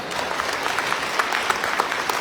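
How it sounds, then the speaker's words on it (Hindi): Audience applause at a community annual cultural program: dense, steady clapping from a large crowd, fairly close and loud, sustained evenly for a couple of seconds. "बात उनकी आपने जोरदार तालियां।"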